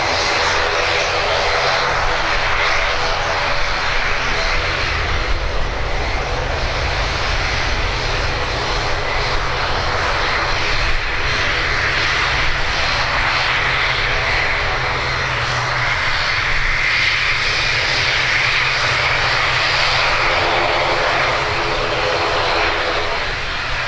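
ATR turboprop airliner engines roaring during a departure at Birmingham Airport, a loud, steady, broadband drone with a propeller hum that holds for the full stretch with no talking.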